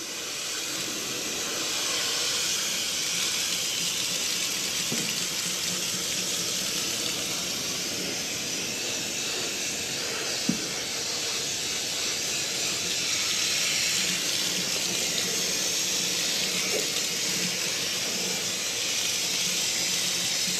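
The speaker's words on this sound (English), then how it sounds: "I did hose this off of water really good, but I'm still getting dirt out." A garden hose sprays water straight onto the fins of a metal-covered air conditioner condenser, a steady broadband hiss running unbroken for twenty seconds at moderate level.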